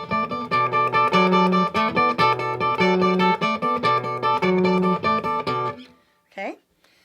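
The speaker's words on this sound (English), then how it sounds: "80s style pop rock kind of guitar lick" A guitar plays a bouncy, rhythmic 80s-style pop rock lick, finger-picked with bass notes and melody together, repeating in short plucked bursts before fading, followed by a brief voice.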